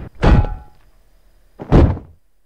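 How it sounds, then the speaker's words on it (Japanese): A blow to the back of the head in the horror video game Kamaitachi no Yoru ×3, heard as two heavy, dull thunks about 1.3 seconds apart, each loud and close, with quiet between them. "後頭部に衝撃が走り、"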